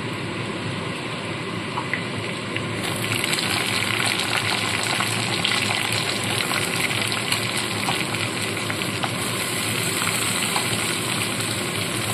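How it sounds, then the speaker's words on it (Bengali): Sliced onion and capsicum fry lightly in a pan for chilli fish, giving a steady, loud, close sizzle that holds continuously and swells slightly after the first few seconds. "পেঁয়াজ ক্যাপসিকাম কিন্তু খুব বেশি ভাজবো না, হালকাভাবে একটু ভেজে নেব।"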